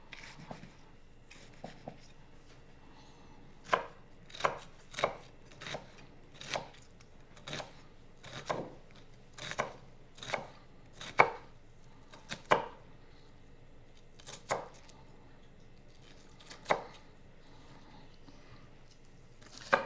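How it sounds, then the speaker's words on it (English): A knife dices half of a small onion on a cutting board, sharp distinct chops landing one by one in an uneven rhythm with short pauses between, close and clear over a quiet kitchen background. "About half of a small onion's plenty. And we want to cut this up into very small dice."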